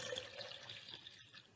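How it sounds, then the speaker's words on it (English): Water is poured into a drinking glass, making a soft, continuous trickling splash that fades briefly near the end; faint and close, with no talking. "I'm going to pour up to the middle of this glass"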